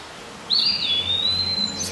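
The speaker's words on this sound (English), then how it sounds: "Gotta love the birds." In a sunlit forest a single bird gives a thin, high drawn-out call lasting about a second, clear above a quiet background hum.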